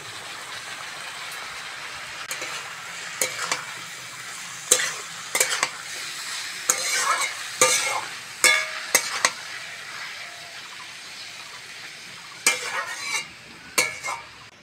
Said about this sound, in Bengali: টমেটোটা হালকা নেড়ে নিয়েছি